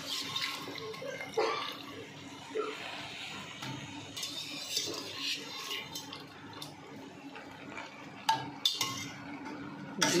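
Boiled peas and potatoes stirred into fried spices in a pot for mutton-fat ghugni, a ladle scraping and clinking against the metal in a steady back-and-forth with a faint low hum underneath and a few sharper knocks near the end.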